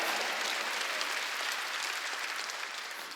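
A church congregation claps together during a Wednesday worship service, a dense, even burst of applause filling the hall for a few seconds with no voices over it.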